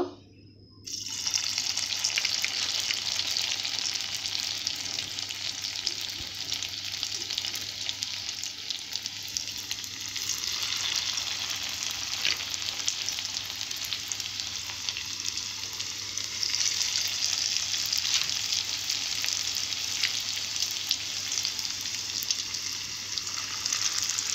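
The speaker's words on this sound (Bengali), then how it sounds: "ফের ভেজে নেব, এইভাবে আরেকবার ভেজে নেব।" A pea snack fries in hot oil, a long, steady, crackling sizzle that begins after a moment of quiet and continues evenly throughout.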